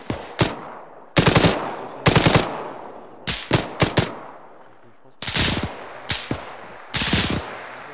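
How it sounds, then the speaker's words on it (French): An MG42 machine gun firing in Arma 3, delivering loud, close, short bursts of rapid automatic fire separated by brief pauses, with faint background noise between bursts. "MG42."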